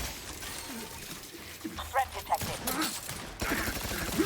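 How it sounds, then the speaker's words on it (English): Gunfire in the video game The Outer Worlds, a short burst of several sharp cracks around the middle, mixed with game noise and a faint creature growl. "it doesn't even care if I shoot at it"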